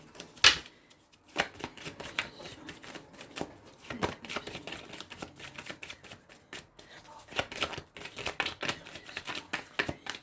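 Tarot cards being shuffled in quick riffling bursts, close and crisp, continuing with brief pauses.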